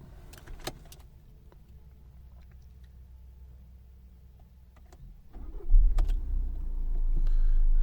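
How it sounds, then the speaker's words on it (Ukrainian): A 2014 Skoda Octavia A7 1.6 TDI Greenline diesel with a six-speed manual gearbox stays quiet apart from faint clicks and key sounds, then its engine cranks and catches near the end, settling into a steady low idle. "Зараз спробуємо завести, послухаємо, як працює двигун."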